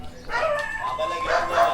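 Dogs barking a few times close by, short yelping barks in quick succession.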